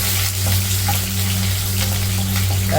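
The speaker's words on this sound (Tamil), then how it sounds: "எண்ணெயிலே நல்லா வதங்கட்டும்" Onions and curry leaves sautéing in oil on a simmer for a Chettinad kola urundai kuzhambu, a steady close sizzle with a low hum beneath it and no talking.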